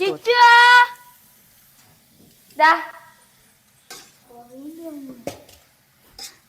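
Pots and dishes being washed by hand, with a few loud metallic clangs and scrapes spaced apart, close by, alongside brief voices and quieter clinks.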